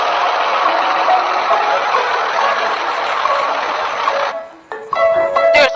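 Bulldozer engine from an animated engineering-vehicles cartoon runs steadily and loud with a broadband rumble for about four seconds, then cuts to brief tonal beeps and effects.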